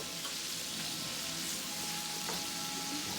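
Cleaned, deveined shrimp turning pink fry in a pan, a steady bright sizzle that runs unbroken and fairly close, with no voices.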